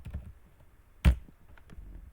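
A computer keyboard is typed on softly, with one sharp, louder keystroke standing out among faint taps in a quiet room.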